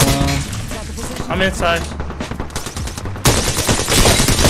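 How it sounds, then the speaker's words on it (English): Rapid automatic gunfire rattles in bursts in a firefight in the video game Apex Legends, loud and close, with players talking over it. "They're shooting through the crack."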